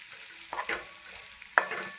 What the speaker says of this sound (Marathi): आपण असं सगळं मिक्स करून घेऊ आणि छान परतून घेऊ